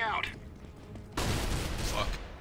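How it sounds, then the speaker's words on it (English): A flashbang grenade goes off in a first-person shooter game as a sudden loud, broadband blast that cuts in partway through and rings on under game noise, with a voice talking before it. "Flashbang out."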